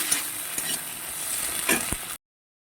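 Chopped tomato fries with ginger-garlic paste and spices in a pan. A steady, close sizzle carries light stirring scrapes, then stops abruptly.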